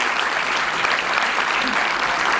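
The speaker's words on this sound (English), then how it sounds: "a round of applause to the panelists here, Mr. Sanjay and Mr. Ravi." An audience in a campus hall applauds the panelists after a session, a dense, continuous round of clapping at an even level from start to finish.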